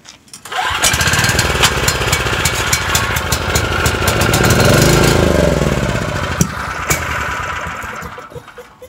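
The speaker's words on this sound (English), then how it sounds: "So the generator fired up and ran on choke, and when I took it off of choke, it died." A Homelite LR4300 generator powered by a Robin Subaru EY28 engine starts and runs on choke, a loud, steady close-up engine drone that rises and falls slightly in pitch before settling toward the end.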